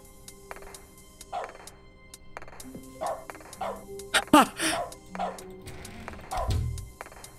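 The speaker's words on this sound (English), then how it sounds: "When I click, it does a dog sound effect." Several short dog barks and yips from The Stanley Parable: Ultra Deluxe ring out in an irregular series, close and clear, with a soft whimper and a low thud near the end.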